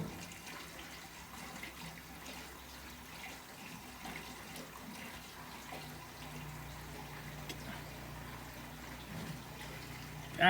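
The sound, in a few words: gasoline poured into Farmall A tractor fuel tank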